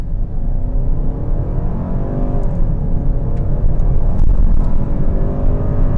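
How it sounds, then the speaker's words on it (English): A 2025 Kia K5 EX with a naturally aspirated 4-cylinder pulls away from a stop in quiet mode, a steady loud low engine rumble with rising harmonic tones as it accelerates, heard from inside the cabin. "So let's try acceleration off the line, but in the quiet mode."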